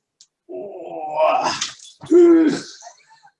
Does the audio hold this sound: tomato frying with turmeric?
no